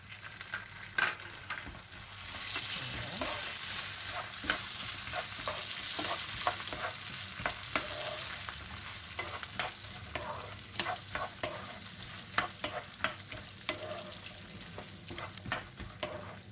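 Wheat roasting with raisins in a pan, a continuous sizzle under frequent sharp clicks and scrapes of a spoon stirring, close and fairly quiet.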